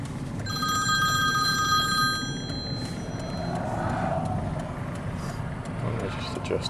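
A T-Mobile cell phone rings inside a car driving westbound on Route 78 near Summit, New Jersey, its steady electronic ring tones running for about two seconds over constant road and engine noise before fading under the car's rumble.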